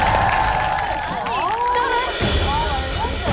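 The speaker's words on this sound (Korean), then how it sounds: "박수로 지켜보도록 하겠습니다." A studio audience on a Korean variety show applauds and cheers ahead of a bicycle challenge on Gwanaksan, steady crowd noise mixed with babble and voices throughout.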